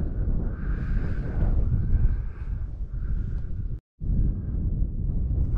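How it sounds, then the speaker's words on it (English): Wind blows steadily across an exposed hilltop stone circle in Snowdonia, buffeting the microphone in a loud, continuous rush with one brief dropout near the end. "It's really exposed, really windy as well."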